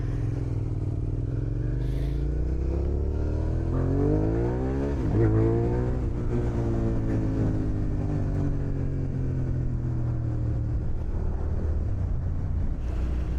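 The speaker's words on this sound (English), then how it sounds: "The bike's accelerating fast." A Suzuki SV motorcycle accelerates hard through several gears, its engine note climbing in rising sweeps and dropping briefly at each shift, heard close and steady over wind noise, with no talking.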